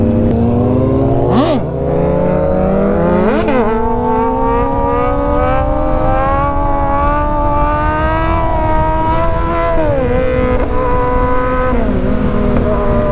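Kawasaki Ninja superbike engine revving hard during a wheelie, a loud, continuous high-pitched scream that rises through gears with a few sharp shift dips, close and sustained with no talking.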